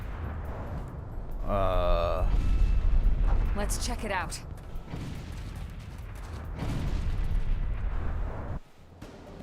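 Deep booming explosions in Xenoblade Chronicles X rumble at a moderate distance, low and rolling under game music and effects, while voices talk over them.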